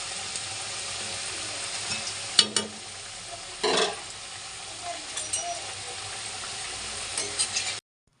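Potatoes frying in hot oil for tehari give a steady sizzle throughout, with a few louder scraping stirs of the pan standing out near the middle.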